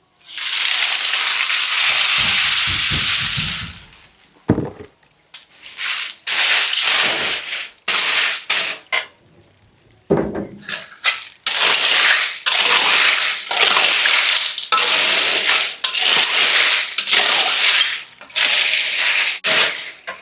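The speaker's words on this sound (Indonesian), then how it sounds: "Lanjut kita tambahkan tengkuyungnya." A loud burst of rattling, clattering freshwater snail shells spilling into a boiling pot, followed by repeated scraping and clinking as they're stirred and jostled.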